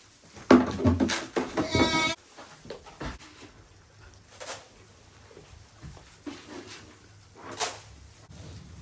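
Meat goats bleat loudly up close, a long bleat followed by scattered shorter calls and some rustling.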